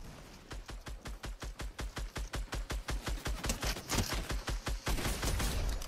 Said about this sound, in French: faut que je tire sur des mecs